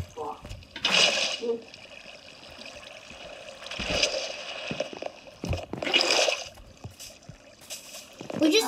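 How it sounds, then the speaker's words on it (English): Flowing water in the Minecraft video game swells in repeated washy bursts of rushing noise, a soft steady stream between them, with speech running underneath. "We just have an infinite water source out here."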